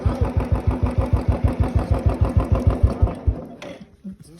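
Motorcycle engine idling in neutral on a roadside stop after a puncture, a close, steady rapid thumping pulse that cuts out near the end, followed by brief faint noise.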